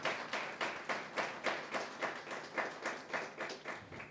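A church congregation claps in unison at a steady rhythm, roughly three claps per second, spread out like a crowd in a hall and carrying on without a break for several seconds.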